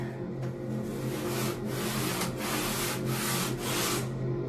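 Hand sanding with sandpaper during DIY filling, sanding and painting work: a continuous close rasping scrub in long back-and-forth strokes, fairly loud, with no speech.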